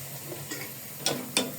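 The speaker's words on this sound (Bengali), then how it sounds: "দেখুন আমি আবারও একটু হালকা করে নেড়ে দিচ্ছি।" A spoon stirs rice-and-milk payesh in a cooking pot, making two short, soft scraping knocks about a third of a second apart over a quiet background.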